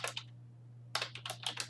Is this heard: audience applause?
no